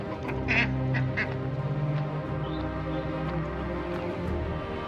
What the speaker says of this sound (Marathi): बघू शकता बदकं पण आहेत